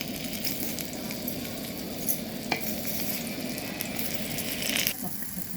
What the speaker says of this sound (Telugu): నెయ్యి వేసుకొని ఈ చేసినవి లైట్గా ఫ్రై చేసుకుంటాం.